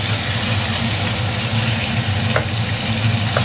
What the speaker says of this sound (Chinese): 我爸炒上菜了，炒上酱了